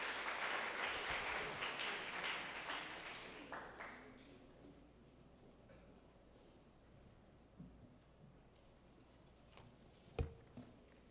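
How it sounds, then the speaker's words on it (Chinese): A church congregation at a Sunday service applauds to welcome a speaker, with a dense patter of clapping that fades away over a few seconds, leaving a quiet room and one later thump. "我们拍手欢迎她"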